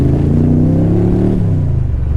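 A 5.7-litre AC Cobra Dax Tojeiro replica accelerating, its engine loud and close with a deep rumble that climbs through the revs then eases, slightly uneven as if stuttering and not running quite right.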